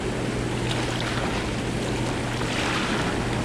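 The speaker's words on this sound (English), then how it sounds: "All that water that's moving, that's insane." Steady, full-bodied rush of the Hiwassee River, constant and fairly loud throughout, with a low rumble underneath and no voices.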